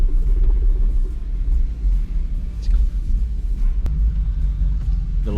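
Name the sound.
Aston Martin V8 Vantage and BMW M4 engines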